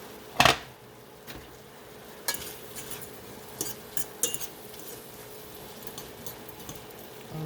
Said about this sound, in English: Let me mix this up pretty good.